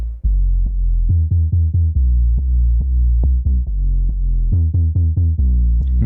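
A distorted 808 bass sample from a UKG sample pack plays alone, its original fuzzy version booming as a rapid run of deep, buzzing bass notes in a steady rhythmic pattern.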